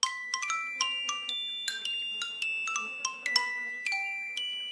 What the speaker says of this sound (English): Gorby, that's not a bell, that's a xylophone! Well, it sort of sounds like a bell.